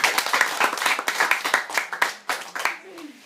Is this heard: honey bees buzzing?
no